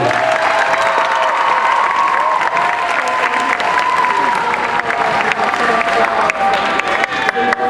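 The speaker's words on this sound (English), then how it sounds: "let's go ahead and give Miss Miller a large Murphy round of applause" A large audience applauds loudly and steadily for a guest speaker at a school event, with cheering and whoops rising over the dense clapping throughout.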